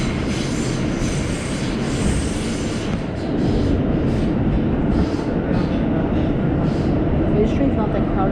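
An IND Culver Line F express subway train in New York runs at steady speed, a loud continuous rumble of wheels and carriage with rhythmic rail clatter and faint squeal throughout, and a voice speaking over it.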